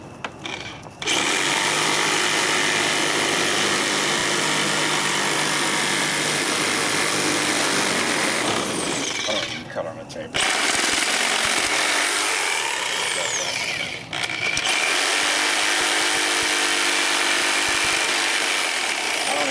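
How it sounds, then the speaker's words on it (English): A Sawzall reciprocating saw cuts through plastic plumbing pipe in loud, sustained, buzzing bursts of rapid blade strokes. Two brief pauses break the cutting before it starts again, with no voices over the noise. "This is a Sawzall. It's sharp."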